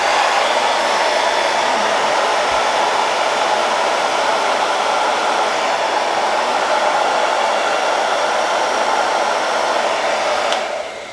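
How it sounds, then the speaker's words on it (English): A hair dryer set to high heat and low fan speed, warming a 2003 Mustang GT door hinge area, blowing in a loud, steady, close whoosh with a constant motor whine throughout. "So I like to use a hair dryer."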